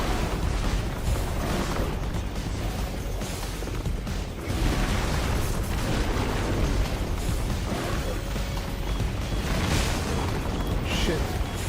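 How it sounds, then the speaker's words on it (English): A big explosion in the video game Final Fantasy XVI roars as dense, sustained rumbling noise for several seconds, loud and broad throughout with bursts of swelling intensity, without clear speech. "explosion!"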